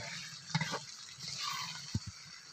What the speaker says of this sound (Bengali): মাটির চুলো রান্না করা হচ্ছে চিকেন ভুনা